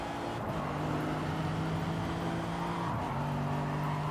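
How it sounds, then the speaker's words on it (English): Race car in a Gran Turismo-style qualifying lap, its engine held at high revs against the rev limiter with a steady buzzing drone and a brief dip near the end, close and continuous. "Bouncing off the rev limiter"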